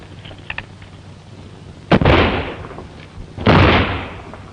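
Two loud gunshots from a firearm, each a sharp crack followed by a long rolling echo, spaced about a second and a half apart, with faint clicks before the first and no talk.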